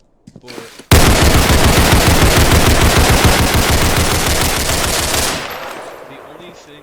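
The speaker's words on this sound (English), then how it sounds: "The AK, not notorious for its recoil." AK rifle fired fully automatic in the Roblox game Criminology: a loud, rapid, continuous burst of shots lasting several seconds, then tapering into a fading echo.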